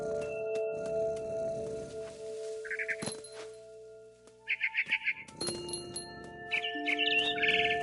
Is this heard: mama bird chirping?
yes